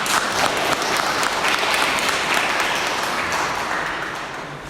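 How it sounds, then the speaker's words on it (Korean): A church congregation applauds a pastor after his sermon: a broad, steady burst of many hands clapping that holds for several seconds, then slowly fades toward the end. "이광호 목사님께 다시 한번 박수로 우리 감사함을 전했으면 좋겠습니다"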